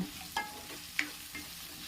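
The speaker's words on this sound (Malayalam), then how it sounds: "ചെറിയുള്ളി ഒന്ന് വഴണ്ട് വന്ന ശേഷം നമുക്ക് സവാളയൊക്കെ ചേർത്ത് കൊടുക്കാം" Shallots and onions sauté in a pan for a Kerala-style country chicken dish, a quiet sizzle with a few soft stirring scrapes and clicks.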